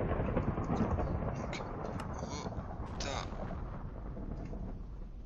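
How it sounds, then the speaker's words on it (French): A continuous rumbling roar of thunder and heavy rain fills a thunderstorm in a modded Minecraft world, steady and dense throughout with a few sharper cracks on top. "c'est saoulant en fait d'entendre l'orage"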